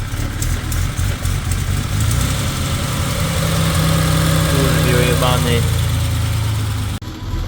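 A BMW E30 engine under repair idles with a steady low rumble throughout, revving briefly near the end, while someone speaks a few words over it.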